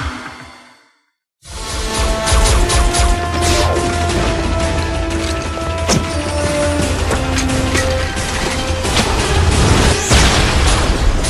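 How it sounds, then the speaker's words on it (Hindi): A hand grenade goes off in a Hindi-dubbed G.I. Joe Renegades cartoon: a brief hush, then a loud sudden boom that breaks into a long, dense crash and rumble with debris and whooshing layered over it. "तुमने एक हैंड ग्रेनेड फेंक दिया।"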